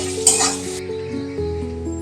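Pieces of boiled gati kochu (taro) fry in a pan with a brief burst of sizzling, then settle into a quieter steady hiss over a low hum.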